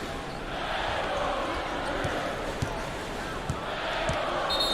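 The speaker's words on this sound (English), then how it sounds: "The crowd is obviously upset. Listen to that reaction." Simulated arena crowd in the NCAA Basketball 10 video game, a steady broad murmur of disapproval from a big crowd with a few sharp ball-bounce thuds punctuating it.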